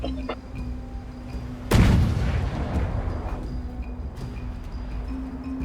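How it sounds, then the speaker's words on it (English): A Panzer II tank fires in a tiny-tank battle video game, one sharp, heavy boom with a lingering rumble, followed by faint metallic pings over a steady background hum. "the Panzer II is firing again"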